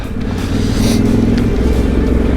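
A Yamaha XT250 dirt bike with lowered, stiffened suspension rides a muddy trail, its engine giving a steady, loud, close rumble with a slight rise in revs, along with some rustling.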